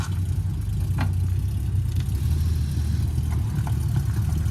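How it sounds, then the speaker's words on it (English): Jaguar E-Type Series 1 rolling out, a steady low engine rumble at close range with a smooth, even idle-like drone and no voices. "We got the E-Type S1 rolling out."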